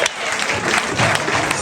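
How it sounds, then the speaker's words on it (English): Crowd applause at a political annual conference in a primary school, steady dense clapping filling the whole short stretch at even loudness with a faint murmur of voices. "Give him a round of applause"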